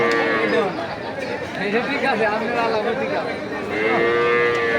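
Native (desi) cows and calves moo in long, drawn-out calls, one after another, over a steady background of crowd chatter at a busy cattle market in Nandail, Mymensingh, Bangladesh.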